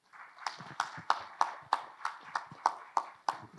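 Applause from an audience at the opening panel of a public-service event in Bahia, heard as a steady run of separate, regularly spaced claps, fairly sparse and moderately near, with no talk over it.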